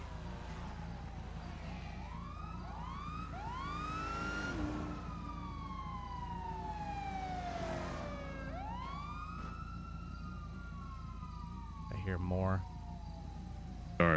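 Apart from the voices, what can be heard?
police car sirens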